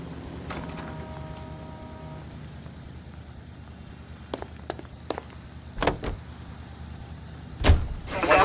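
A car in the video game L.A. Noire, with a low engine drone beneath a short whirring mechanical tone and several sharp clicks and thumps like doors or switches, ending in a louder bump.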